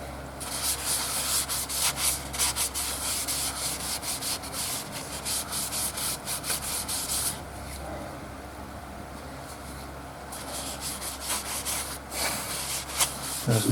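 Steady abrasive sanding on a wooden bowl, a continuous close rubbing rasp that pauses briefly midway and then resumes.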